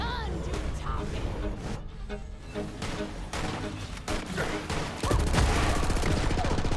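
Borderlands 3 gunfire crackles in rapid repeated shots and bursts, close and loud, growing heavier toward the end with booming impacts, while a voice speaks over the shooting.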